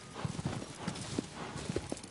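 Horse hooves clip-clop in Shadow of the Colossus, a quick uneven run of close, moderately loud hoofbeats with a soft background ambience.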